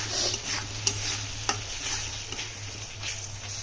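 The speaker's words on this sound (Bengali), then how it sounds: "ভালো করে মশলাটা কষিয়ে নিচ্ছি" Spice paste for a Bangladeshi-style beef liver roast being stirred and fried in a pan, a steady sizzle with a low hum beneath and occasional sharper scrapes of the spoon, close and continuous with no talk.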